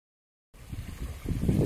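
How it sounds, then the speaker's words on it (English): After a moment of silence, low rumbling wind buffets a ZTE Axon Elite phone's microphone outdoors on a windy day, growing stronger and gustier toward the end. "Windy day here."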